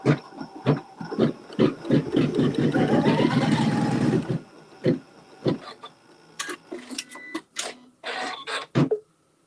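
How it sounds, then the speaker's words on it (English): A sewing machine stitching a quilt seam runs in one continuous, fast mechanical whir for about four seconds. Scattered clicks and brief handling noises follow. "Keeping with the same thread, we'll stitch that seam."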